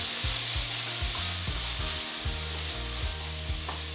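Quinoa fried with a tablespoon of soy sauce bubbles and sizzles steadily in a pan while a utensil stirs and scrapes the bottom in a repeated rhythm, close up and with no talking.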